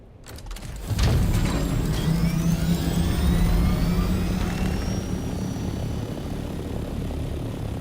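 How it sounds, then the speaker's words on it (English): Vehicle engine idling in the Dune Awakening video game, a steady droning hum with rising whine tones, swelling loud after a second and holding constant throughout with no talk. "I can still hear my engine running."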